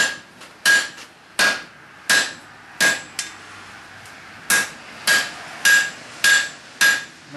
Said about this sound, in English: Using the rounding side of my hammer.